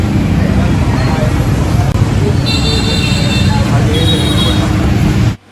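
Dense, continuous city street traffic rumbles close by, with car horn toots now and then and a faint murmur of voices mixed into the steady roar.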